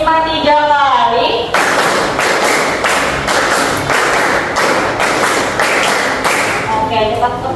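A class of Indonesian pupils in an Islamic ethics lesson claps a five-beat pattern three times over, crisp synchronized hand claps in rapid regular groups, loud and close, between spoken cues from the teacher.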